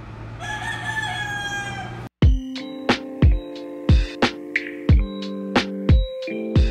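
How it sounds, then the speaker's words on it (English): A rooster crows nearby at morning, a long harmonic call, then a quick run of loud, sharp clucks and calls in an uneven rhythm, with no talk over it. "Dude up here has been crowing for hours."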